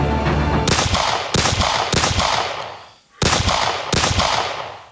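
Gunshot samples fire off in quick succession from a randomizing sampler plugin, five sharp loud blasts with ringing tails and a brief gap of near silence midway.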